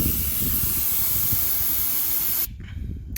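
Air hisses steadily from the bleeder valve of a tyre pressure gauge, a loud close spray that cuts off abruptly near the end.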